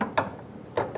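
A socket ratchet snugs down a fuel filter bracket bolt on a 2000-2007 Ford Focus, giving a few quick close clicks in two brief bursts.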